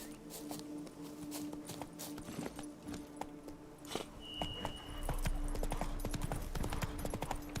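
Roach, the horse in The Witcher 3 video game, clip-clopping with quick, rhythmic hoofbeats over ambient game sounds, with a short tonal chime partway through.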